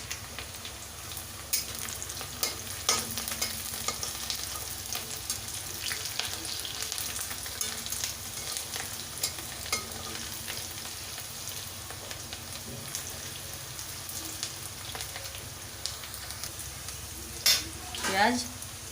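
Onion and green chili sizzle steadily in a hot pan with occasional stirring scrapes. The frying is constant and fairly quiet throughout, with no talking.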